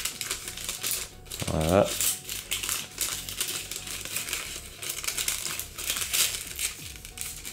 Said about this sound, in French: qu'à enrouler le papier sulfu autour de notre cornet qui a déjà sa forme initiale